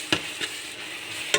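Fish curry masala powder fries in a pan while a spoon stirs it. A steady close sizzle carries through, broken by a few brief scraping stirs.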